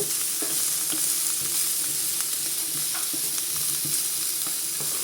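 Chicken curry cooks in a pan over reduced heat, giving a continuous close sizzle and bubbling hiss with occasional small stirring clicks and pops, steady throughout with no talking.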